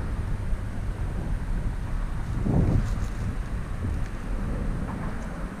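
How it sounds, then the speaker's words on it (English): Wind blowing across an open urban waterway while fishing in San Antonio, a steady low rumbling buffet against the microphone that swells briefly near the middle and stays continuous throughout, with no talking. "now the wind."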